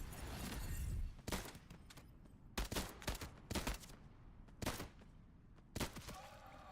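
Gunfire in Into the Radius 2 comes as a series of sharp, loud single shots and short bursts at irregular intervals, some close together, over a quiet background.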